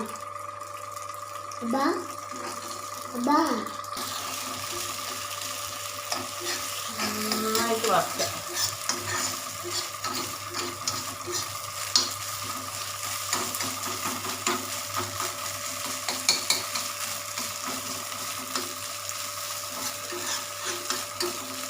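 Cough-remedy ingredients roast in a pan, a soft, steady sizzle with scraping stir strokes and a few brief, faint voices early on.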